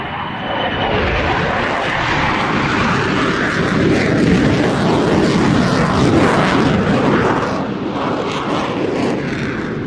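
Aircraft at East Midlands Airport during an airshow, a loud, sustained engine roar that fills the scene, rising slightly then holding steady throughout.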